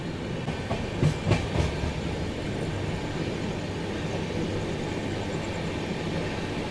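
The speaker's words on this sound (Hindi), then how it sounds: "उसके बाद अपनी ट्रेन निकल रही है।" A Duronto Express pulls out and runs along the rails with a steady rolling rumble, a few louder clanks of the carriages near the start, then continuous close wheel noise.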